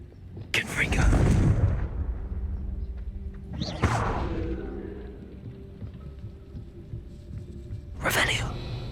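Confringo fire-blast spell in the Hogwarts Legacy video game, heard as a loud booming blast near the start followed by a rumbling tail, with two more sharp explosive bursts later, under continuous game ambience.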